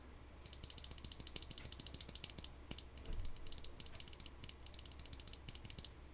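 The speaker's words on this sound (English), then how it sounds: "Here's how it sounds stock. Okay, I'm just pressing it like that on my finger." Rapid bursts of sharp plastic clicks from a stock Gateron Slate mechanical keyboard switch pressed repeatedly by a finger, close and fairly loud, with brief pauses between runs.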